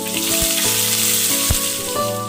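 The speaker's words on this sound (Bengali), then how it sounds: "এবার আমি কেটে রাখা আলুগুলোকে ভেজে নেব।" Cut potatoes fry in oil, giving a steady, even sizzle close up for a couple of seconds, with a few faint low knocks beneath.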